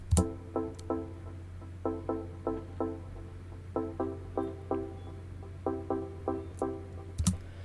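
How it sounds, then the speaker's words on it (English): Short, bright two-oscillator saw wave synth stabs from Ableton's Operator repeat in rhythmic clusters over a low steady hum, each hit decaying quickly before the next. "I've designed a simple sound using Ableton's operator synth with 2 oscillators running a simple saw wave"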